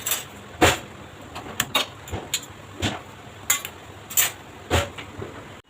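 A kadhai (wok) is set down on a gas stove, producing a series of sharp metallic clanks and knocks at irregular intervals, close and fairly loud over quiet kitchen background, with no one speaking.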